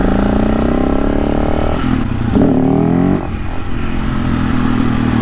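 Supermoto motorcycle being ridden, a loud steady engine drone with gear-change dips and a brief rev, heavy wind rush at close range.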